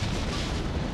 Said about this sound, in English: Explosions, flames.